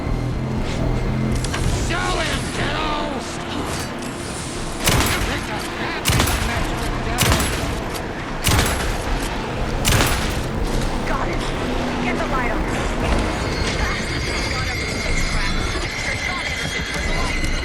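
Bursts of gunfire in the Alan Wake 2 video game crack out in a rapid series of loud shots with booms, over mechanical game noise and in-game voices talking.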